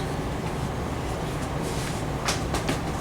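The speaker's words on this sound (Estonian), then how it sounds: "Nii, ennuste kohaselt viimane rong." Inside a moving train during an Interrail trip in the Netherlands: a steady, loud rumble and roar fills the carriage, with a few short hissing swells near the end and no talking.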